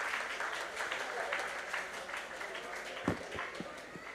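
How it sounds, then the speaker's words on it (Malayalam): An audience at an Onam celebration awards ceremony claps steadily for a student award winner, with a soft, continuous patter of many hands and a few sharper claps near the end, while voices murmur underneath. "കുട്ടികളിൽ നിന്ന് കൈയടിച്ചെല്ലാവരും പ്രോത്സാഹിപ്പിക്കുക."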